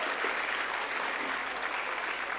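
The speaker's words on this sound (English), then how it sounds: "they definitely deserve a round of applause" An audience applauds teachers at a school anniversary celebration, a dense, even wash of clapping from a large crowd filling the hall throughout.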